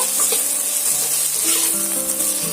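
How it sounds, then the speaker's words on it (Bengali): Chopped tomato and onions frying in a pan for Punjabi aloo dum, a loud continuous close sizzle with stirring scrapes running throughout and no voices. "এবার আমি আগে থেকে যে টমেটো কুচিটা রেখেছিলাম এটা আমি এর মধ্যে দিয়ে দেব দিয়ে আবারও এক দু মিনিটের মতন এইভাবে নেড়ে নেব"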